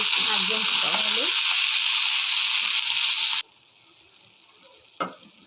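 Ivy gourd (dhondakaya) cooking in a pan over a low flame gives a steady, close sizzling hiss that stops abruptly partway through, leaving near quiet before a brief clatter at the end.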